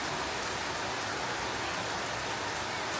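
Steady rain pouring down, a dense even hiss of drops filling the air with no other sounds, constant and fairly close.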